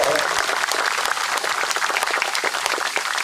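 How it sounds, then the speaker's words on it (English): An audience at a Vietnam Veterans Day celebration breaks into sustained applause, a dense and loud clapping crowd that carries evenly through the moment. "Big round of applause"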